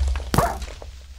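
A dog in the video game Minecraft dies after a creeper explosion, a single sharp thudding yelp against low rumbling game background noise.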